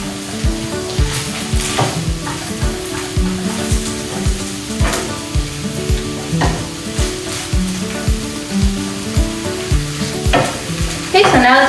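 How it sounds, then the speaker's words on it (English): Samosa filling with curry and spices is stirred in a frying pan, a steady sizzle under repeated scraping strokes of the spoon, close and loud with no talking. "Just make sure it's all mixed together in the pan and that the curry and all the spices get everywhere."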